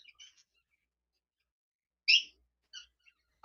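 Birds chirp in short, sharp bursts near a waterfall outing, a brief call at the start followed by a louder chirp after a long silence and a quieter one just after.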